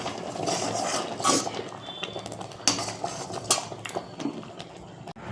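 A spoon scrapes and clinks against a pot while phirni is stirred, producing irregular metallic taps and scraping sounds over a low stovetop hum.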